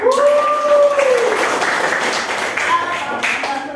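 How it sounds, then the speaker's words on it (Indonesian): Students applaud in a school classroom during a social studies lesson, a brief, busy patter of clapping hands with a teacher's voice talking over it. "tepuk tangan."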